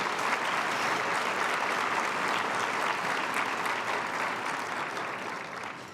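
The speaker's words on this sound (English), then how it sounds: "Let's just give them a big round of applause." An audience at a benefit breakfast claps steadily for several seconds, a dense wash of applause that tapers off slightly at the end.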